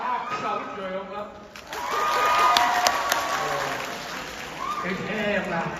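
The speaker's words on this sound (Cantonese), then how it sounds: "拍手掌啦" Applause and cheering from an audience at a Wu opera performance of Sun Wukong Three Times Defeats the White Bone Demon, a dense wash of clapping rising after a quieter start and holding steady, with voices over it.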